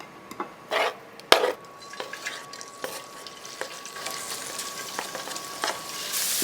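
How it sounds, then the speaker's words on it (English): Shrimp sauté in a pan for seafood enchiladas, giving a soft sizzle beneath repeated scraping, stirring and clacking of a utensil against the pan, close by and uneven. "we need to saute our shrimp"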